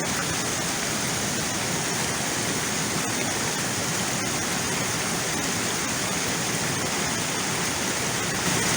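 A waterfall cascades after heavy overnight flow, a steady, loud, broadband roar of rushing water filling the scene without pause.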